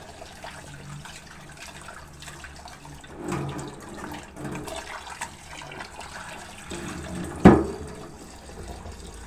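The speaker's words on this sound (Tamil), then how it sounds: "கறி மட்டும் நம்ம நல்லா வாஷ் பண்ணிடலாம்." Running water splashes over raw chicken pieces being washed, a soft continuous gush close by with a few louder splashes and one sharp knock partway through.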